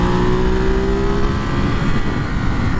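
A 2023 Ducati Monster SP motorcycle engine revving while being ridden, a steady loud drone with one falling blip early, continuous and close with no voices.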